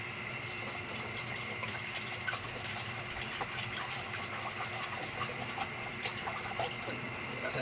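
Water runs steadily from a tap while kangkong is washed in a sink, a constant close rushing splash with small clinks and handling noises throughout.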